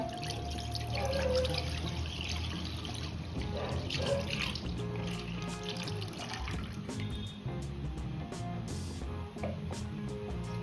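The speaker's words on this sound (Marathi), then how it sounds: "आता यामध्ये दूध ॲड करून घेऊया" Milk poured into a kadhai holding a little water, for Buddha Purnima rice kheer, makes a steady, continuous liquid pour and trickle running the whole time at moderate level, with no talking.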